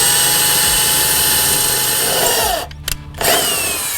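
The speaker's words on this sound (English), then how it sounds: "take a 1/4 of an inch drill bit and then just go straight down through this metal surface" A power drill with a 1/4-inch bit whines loudly as it bores down through the metal surface of a 2023 Ford Super Duty truck, running steadily for a few seconds, briefly stopping twice, then spinning up again.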